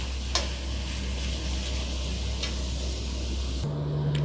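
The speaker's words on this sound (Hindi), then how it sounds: "इसे और भी ब्राउन करेंगे और ये पूरा गल जाना चाहिए, इतना तक फ्राई करेंगे।" Chopped onions frying in oil in a kadhai for masala chicken, a steady close sizzle with occasional stirring scrapes, changing to a different hiss near the end, with no talking.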